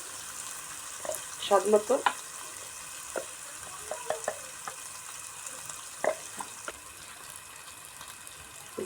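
Red chili powder and spices frying in a pan for khichuri, a low steady sizzle broken by scattered clinks and scrapes of stirring, with a brief spoken remark.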